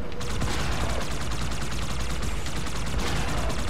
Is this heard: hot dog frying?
no